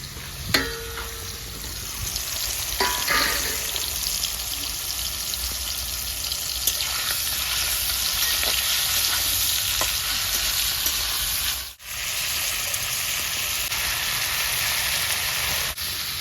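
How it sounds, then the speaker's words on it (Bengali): Giant freshwater prawns fry in hot oil in a village-style kitchen, giving a continuous dense sizzle close to the mic. A few clinks sound early and there is one brief dip near the end. "তেল গরম হয়ে গেছে চিংড়ি মাছগুলো দিয়ে দিচ্ছি"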